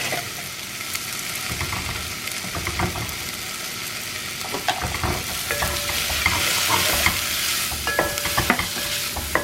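Chilli powder and cumin powder sauté in a hot pan with a steady low sizzle, broken by scraping and clinking as a spoon stirs the spices.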